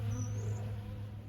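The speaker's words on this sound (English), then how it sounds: "The bees are really enjoying the sugar." A brief, steady low hum of bees feeding on sugar water nearby, faint and continuous with a thin high whine above it.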